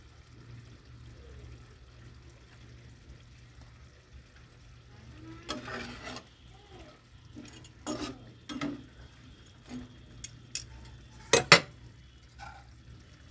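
Fried onions being added to a curry in a pan, with scattered clinks and scrapes of a spoon against the pan and a few louder clatters toward the end over a low steady hum.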